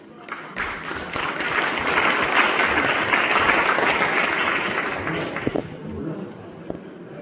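A concert audience at a community charity music event breaks into sustained, dense applause that builds, holds steady for several seconds, then tapers off with a few scattered claps near the end.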